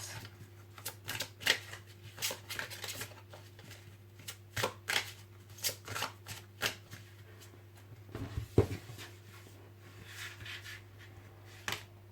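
Oracle cards are shuffled by hand before four are drawn: repeated crisp riffles and slaps come in bursts, close and moderately loud over a faint steady hum, with no talk.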